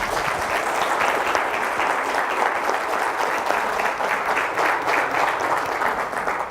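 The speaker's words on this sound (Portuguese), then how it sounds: "salve de palmas para o Vicente aí" A business-event audience gives a dense, continuous round of applause for a speaker, many hands clapping together at steady strength for several seconds, fairly close and full, with no talk over it.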